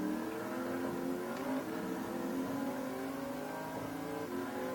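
Mercedes VGT race car in a video game, its engine revving steadily with dense layered harmonics, sustained and loud throughout with no pauses and no talk.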